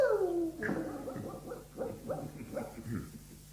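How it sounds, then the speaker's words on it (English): Dogs in the distance, with a falling whine followed by a string of short, muffled barks and yips at a fairly low level. "Dogs bark in the distance."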